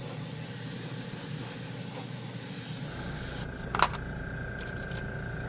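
A no-clean airbrush bought from Amazon sprays paint with a steady broadband hiss, running continuously throughout with a brief louder burst near the end and a faint compressor hum underneath.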